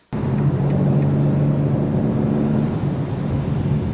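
Inside a BMW G82 M4 Competition cruising on a highway, the engine and road noise drone low and steady after a sudden onset, a constant loud cabin rumble with no talk.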